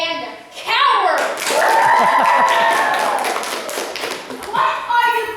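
Dense clapping from a crowd fills most of the stretch, with a loud voice shouting over it before the applause thins out near the end.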